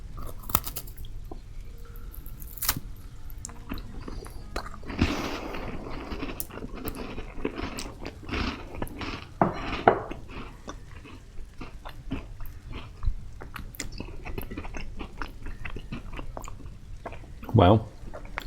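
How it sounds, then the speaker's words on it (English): Crunchy homemade hazelnut cookies being chewed close to the mic, with repeated irregular crunching bites and mouth noises, some louder sharp cracks, and a person talking between bites. "Very crunchy, as you can probably tell from the crunch noises."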